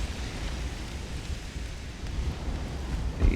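Rain falls in the naval battle game Ultimate Admiral: Dreadnoughts around a torpedo boat, a continuous low rumbling hiss like a storm with a faint wind edge and a small bump at the end.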